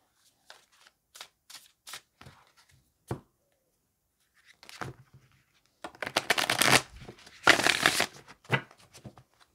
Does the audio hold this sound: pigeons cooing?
no